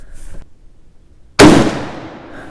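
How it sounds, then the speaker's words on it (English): A single sharp, loud rifle shot from an 1896 Krag-Jorgensen firing handloaded ammunition, cracking suddenly and then decaying over about a second, with little else around it. "We'll just fire the rest of the group right in there"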